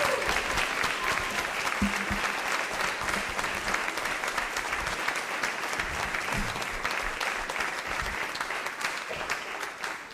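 Applause from the audience at a school board of education meeting, a steady, full round of clapping that fills the room for about ten seconds, with a brief voice near the start.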